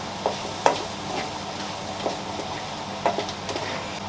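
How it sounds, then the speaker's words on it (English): A spoon stirs chocolate bean chilli in a pan: soft, close scraping strokes with a few sharper knocks against the pan over a low steady sizzle, with no talking. "keep stirring it"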